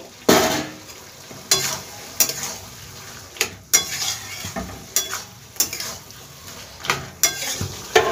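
Fried prawns go into a sizzling pan of bottle gourd curry, a steady sizzle broken by regular sharp spatula scrapes and clinks against the pan.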